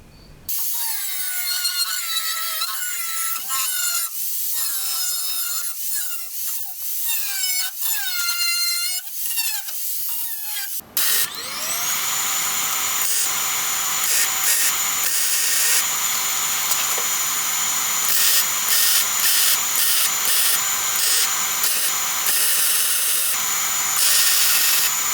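Steel fender flare being welded onto a Jeep YJ: a steady, loud crackling hiss runs unbroken for about fourteen seconds. Before it comes a stretch of lighter clatter with whining tones.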